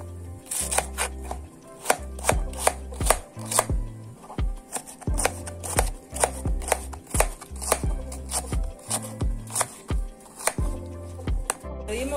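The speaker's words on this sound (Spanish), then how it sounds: "Vamos a picar la cebolla morada" Knife chopping red onion finely on a board for beer chicken, rapid rhythmic blade taps striking one after another, close and crisp with brief pauses, no talking.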